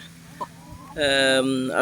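Rhode Island Red hens on a naturally run farm give a few loud, drawn-out clucks close by, after a quiet start with one soft peep.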